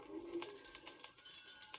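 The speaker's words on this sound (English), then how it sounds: "You hear the wind chime?" At Greenfield Village, a glass wind chime tinkles faintly and delicately in a gentle, irregular scatter of high, ringing notes.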